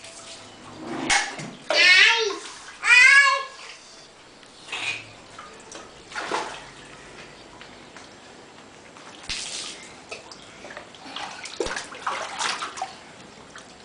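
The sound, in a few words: child splashing water out of a pool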